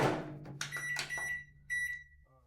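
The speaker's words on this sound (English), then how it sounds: "throw my microwave popcorn into the microwave" A microwave oven heating a bag of microwave popcorn, run off an R1500 power station: a steady low hum under a cluster of sharp beeps and clicks from the control panel, close and fairly quiet.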